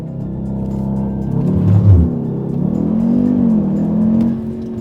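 Mk3 Audi TTS launching hard in sport mode, the engine note climbing with rising revs, easing briefly, then pulling strongly again, heard from inside the car without talking.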